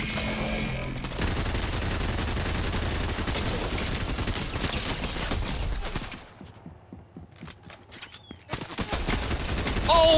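Rapid gunfire in Fortnite, dense bursts of shots crackling loudly and continuously for about six seconds, then a lull of a few scattered isolated shots before the firing starts up again loudly near the end, with no talking.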